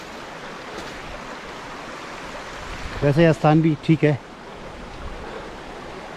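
A Himalayan river runs in a constant roaring wash of water at a campsite, while someone briefly speaks over it partway through.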